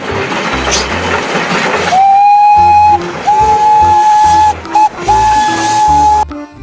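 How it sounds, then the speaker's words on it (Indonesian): Toy Thomas the Tank Engine train sounds a series of bright, sustained whistle blasts over its steady mechanical running and clatter, loud and close, with short gaps between toots. "kereta Thomas"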